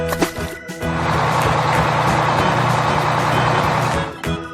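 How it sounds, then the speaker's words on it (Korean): A toy excavator gives off a steady, loud mechanical whir with a beeping tone layered on top. It holds for about three seconds between short quieter gaps, with no talk. "Excavator."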